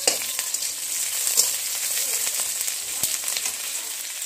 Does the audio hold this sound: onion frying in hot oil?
yes